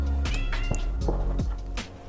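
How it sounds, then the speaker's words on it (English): Domestic cat meowing several times in quick succession, close to the microphone, with drawn-out, wavering calls over a low background hum. "That's my cat."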